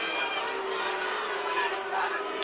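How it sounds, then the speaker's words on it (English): A large Omaha crowd at a VFC mixed martial arts event boos with sustained, loud jeering that fills the space continuously, with a few scattered shouts rising above the din. "Here come the boos from this Omaha crowd"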